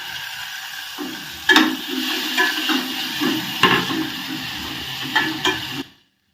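Chopped tomato sizzles in a pan with sautéed vegetables for upma, a soft steady fry broken by repeated spoon stirs and scrapes, then cutting off abruptly.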